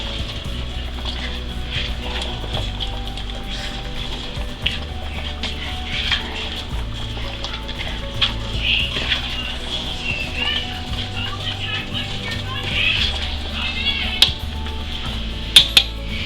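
A spoon stirs ogbono soup in a pot, giving soft scraping and clinking against the pot over a low steady background, with a few sharper metallic knocks near the end.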